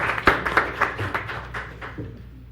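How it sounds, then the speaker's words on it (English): An audience at a general session meeting claps for the first-place winner of the Franklin County Thrive 5K, a modest round of individual claps and scattered applause at moderate volume that tapers off toward the end. "Give him a round of applause."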